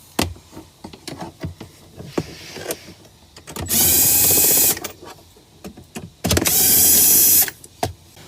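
Two bursts of a high-pitched powered ratcheting whine from a tool driving a 10mm socket, pulling two bolts out of the SRS airbag control module area in a 2017-2020 Hyundai Sonata. Each burst lasts about a second, loud and close, with small clicks and handling noises in between.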